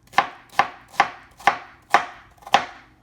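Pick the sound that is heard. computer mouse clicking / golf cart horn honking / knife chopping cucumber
knife chopping cucumber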